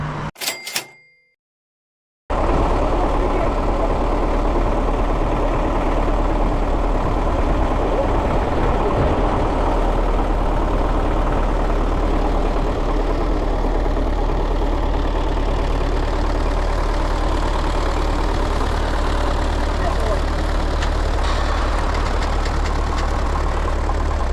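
A tow truck carrying a CLAAS Dominator 76 combine sits with its engine idling in a steady, loud, unbroken rumble that runs for over twenty seconds, after a few brief clicks at the start.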